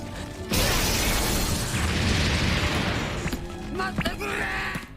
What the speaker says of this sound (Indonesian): Pythagoras pun dihancurkan oleh Snake sampai meledak.